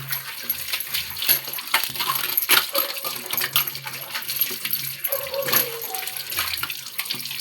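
Washed kitchen utensils being rinsed under running water after soap scrubbing, with a steady splashing stream and scattered metallic clinks as the pieces knock together, close by and continuous.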